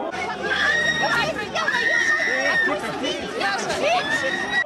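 Angry crowd on a town square in Crimea, a dense babble of many agitated voices shouting and arguing at close range, sustained and loud throughout.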